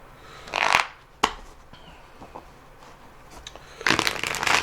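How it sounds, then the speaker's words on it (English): Cards are riffled twice in quick bursts, a crisp flutter at the start and another near the end, with a tap between them. "So I'm doing a quick shuffle here."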